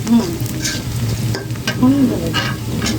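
Onions fry in hot oil for a mutton curry, loud and close, with a continuous sizzle and repeated scraping stirs throughout.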